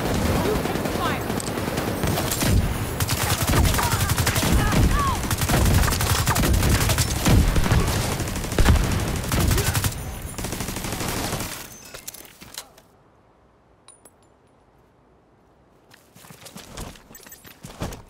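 Dense, continuous gunfire rattles through a firefight in The Division 2 for several seconds, loud and close, then cuts off abruptly to near silence with a few faint sounds afterward; voices may be mixed in with the shooting.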